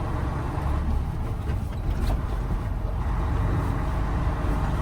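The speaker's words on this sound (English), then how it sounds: "Double clutch into fifth gear." A truck engine drones steadily in fifth gear after double clutching during a road test, a loud, continuous rumble of road and engine noise with no voices.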